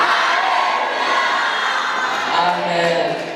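A church crowd at a wedding service cheers and whoops in a loud, sustained roar of overlapping voices, with a few higher shouts rising near the end.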